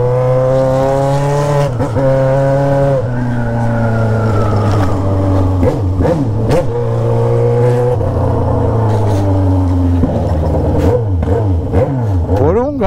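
Yamaha XJ6 motorcycle fitted with an Atalla exhaust using only a 3-inch pipe, revving loudly and close by in repeated throttle blips, with a strong harmonic engine tone that rises and falls throughout.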